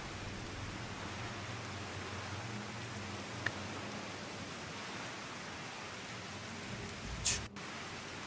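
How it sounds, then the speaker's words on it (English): Heavy rain pouring steadily in Final Fantasy XIV, a continuous broadband hiss that fills the whole clip at an even level, with one faint click near the middle and a brief brighter rustle near the end. "The random pouring rain out of nowhere."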